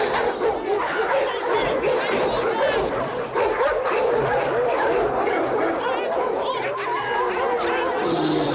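Dogs bark, yip and whimper in a noisy, chaotic scuffle while several people shout and talk over the commotion.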